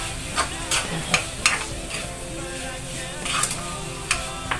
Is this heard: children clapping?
no